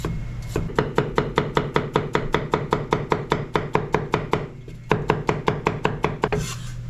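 A knife chops potatoes into strips on a cutting board, steady rapid close thuds in an even rhythm with one short pause midway, no voices.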